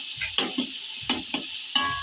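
Rice frying in a pan with onion, tomato and masala for chicken biryani, a soft continuous sizzle broken by several sharp scraping stirs of a spoon against the pot.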